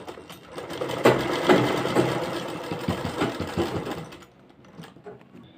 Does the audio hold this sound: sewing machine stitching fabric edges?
yes